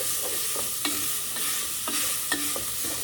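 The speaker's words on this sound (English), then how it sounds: "Now we are going to chop this up, get it browning" Ground meat browning in a pan for chili: a steady close sizzle with repeated scraping strokes of a utensil chopping and stirring the meat, no talking.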